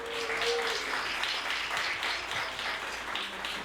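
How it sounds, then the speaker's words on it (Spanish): A church congregation applauds, a burst of many hands clapping together loudly and continuously for a few seconds. "Quiero que les demos un aplauso, por favor."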